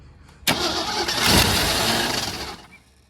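A 1978 Jeep engine cranks and catches with a loud burst, roars roughly for about two seconds, then dies away as it stalls, close up and without talking.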